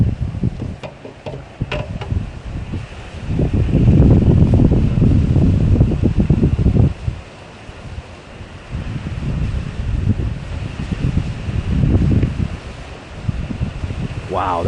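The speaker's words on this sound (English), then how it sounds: "Wow, that wind is something else" Strong outdoor wind buffeting the microphone in loud roaring gusts that swell and ease, with brief rustling and clicks.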